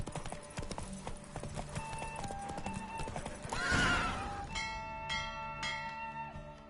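Galloping hoofbeats of a racing horse in The Witcher 3, fast and close, then a loud whinny midway, followed by bell-like chimes as the race ends.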